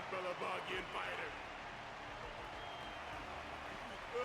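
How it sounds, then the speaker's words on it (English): Audience applause in a Honkai Star Rail arena match, a soft, sustained patter of clapping and crowd noise at a distance, with a voice speaking over it at the start. "Their constant applause is a salute to this resilient Balabagian fighter."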